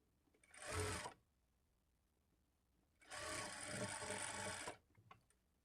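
An electric sewing machine stitches a blouse along a marked line in two bursts, a short whirring run followed after a pause by a longer steady run, close and fairly quiet.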